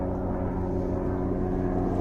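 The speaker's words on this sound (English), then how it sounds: "Wait a minute, this helicopter gets over." A helicopter flies overhead, giving a steady, droning rotor hum that holds at an even loudness throughout with no voices.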